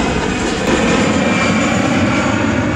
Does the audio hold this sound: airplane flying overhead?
yes